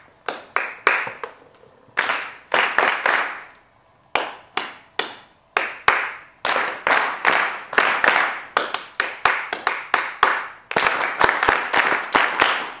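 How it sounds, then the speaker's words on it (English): Bursts of sharp hand clapping form short rhythmic patterns, each phrase clapped and then clapped back, loud and close with brief pauses between phrases. "I'll clap and you clap back for me."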